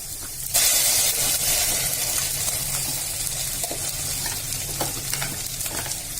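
Onions and ground masala sautéing in a pan for yam tamarind curry, a sudden loud burst of sizzling as the masala hits the oil, settling into a steady hiss with a few soft stirring clicks.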